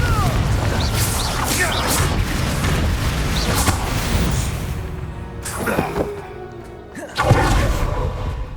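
Confringo explosive spell cast in the video game Hogwarts Legacy, heard as whooshing magical bursts and heavy booms, with a sharp loud impact near the end, mixed with game ambience and voice.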